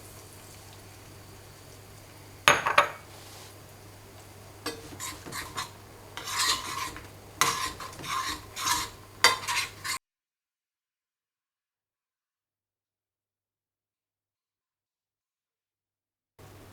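Eggs cooking in oil with fenugreek paste in a pan: a low, steady hiss broken by clustered scraping and rasping strokes of a utensil, close by, before the sound cuts to silence.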